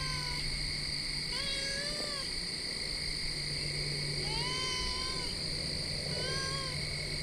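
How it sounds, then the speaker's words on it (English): An orange cat meows repeatedly indoors, with several drawn-out, rising and falling cries spaced a second or two apart over a steady electrical whine. "Why are you meowing so much?"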